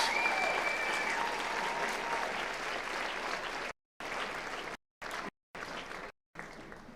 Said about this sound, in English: Let's give all of the students, the district winners as well as the school winners,